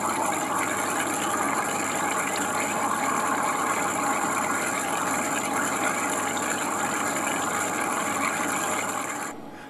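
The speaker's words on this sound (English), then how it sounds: "The Pulse EDM burned with much power and I was happy." A homemade pulse EDM machine built from a DIY book runs continuously, a dense, steady buzzing and crackling hiss with a constant high whine, loud and close, cutting off just before the end.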